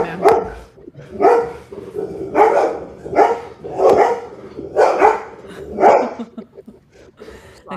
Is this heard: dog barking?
yes